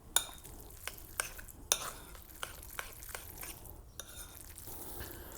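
A spoon mixes French sauce gribiche in a bowl: sharp clicks and taps of metal on the dish every half second or so, then softer wet stirring, close and fairly quiet.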